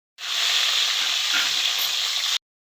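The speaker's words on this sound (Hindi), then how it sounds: "ये फ्राई करेंगे ताकि एक तो अच्छा सा कलर आ जाए" Taro root (arvi) pieces fry in hot oil, a loud, even, hissing sizzle that starts suddenly, holds steady for about two seconds, then stops sharply.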